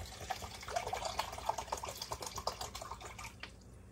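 One and a third cups of water run and splash steadily for a few seconds, a close liquid pour with bubbling texture, then tapers off near the end.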